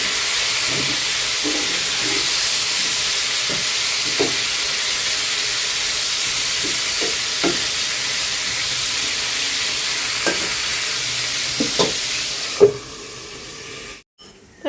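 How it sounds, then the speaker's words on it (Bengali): Sliced pointed gourd fries lightly in a pan with a steady, close sizzling hiss and occasional soft utensil taps, running continuously before cutting off abruptly near the end. "পটল আর এটা হালকা একটু ভেজে নিই।"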